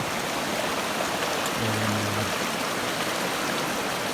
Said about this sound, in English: we'll cross this little brook right here and be on our way